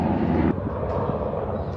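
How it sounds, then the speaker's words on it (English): Helicopter flying overhead in San Diego, a steady broad engine and rotor roar that stays loud and constant throughout, with no talking. "Hold on, I'm gonna wait for this helicopter."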